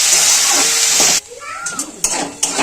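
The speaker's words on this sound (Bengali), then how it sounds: "এদিকে তো দেখতেই পাচ্ছ সবজিটাকে ভাজছি" Flat beans, potato and peas frying in a pan give a steady, loud sizzling hiss for about a second. It then drops off into quieter stirring, with a few clinks and scrapes.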